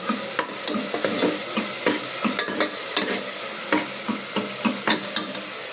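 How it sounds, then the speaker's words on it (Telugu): Tempering for sambar sizzles hard in a pan, with close, loud frying and repeated sharp clinks of stirring throughout. "ఇక్కడ తాలింపు కూడా అవుతుంది."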